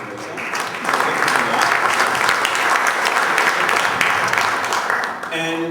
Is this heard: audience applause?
yes